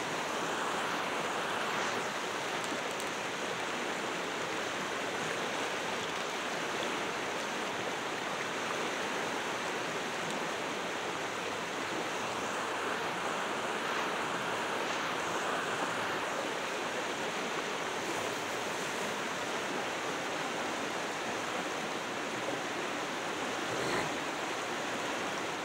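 Water with waves washing and flowing in a steady, continuous broadband rush, close and fairly even throughout with no voices.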